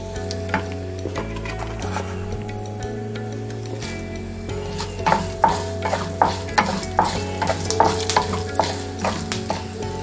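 Whole black pepper, cardamom, coriander seeds and cumin dry-roast in a pan, a low hum giving way to rhythmic scraping stirs and light rattling of the seeds, moderately loud, no speech.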